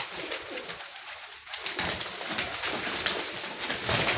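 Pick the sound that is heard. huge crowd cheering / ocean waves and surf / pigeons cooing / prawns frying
pigeons cooing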